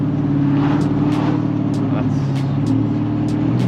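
A turbocharged SRT8 Challenger cruises at low speed, its engine a steady, loud, low drone heard from inside the car, with faint high ticks recurring throughout.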